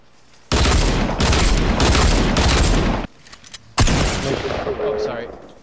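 Rapid pistol gunshots in a video game come as loud, dense bursts of firing, then a short pause, then another volley that tails off.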